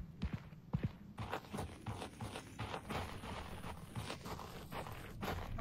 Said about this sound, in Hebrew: אתה שומע את הצעדים שלי